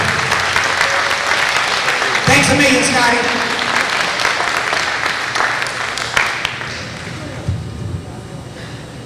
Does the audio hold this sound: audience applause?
yes